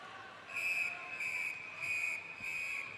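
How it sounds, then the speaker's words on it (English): At the London 2012 Paralympic swimming, a referee's whistle sounds in four short, shrill pulses over the murmur of a large indoor crowd calling for silence. "And the whistle goes for silence."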